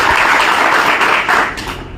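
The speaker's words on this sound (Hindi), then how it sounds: "शक्ति के लिए जोरदार तालियां।" A political rally crowd in Rajasthan breaks into loud, dense applause, a continuous wash of clapping held for a couple of seconds before tapering slightly.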